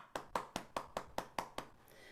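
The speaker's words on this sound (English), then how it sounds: "Let's all give Shukla a big round of applause." On a Zoom conference call, about eight evenly spaced, crisp hand claps come through a single microphone at a steady rhythm, fairly quiet and close, with no voices.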